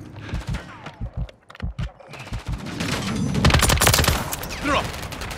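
Gunfire in Call of Duty: Modern Warfare III, scattered single shots giving way to dense, rapid automatic volleys and crackling fire that build and stay loud near the end.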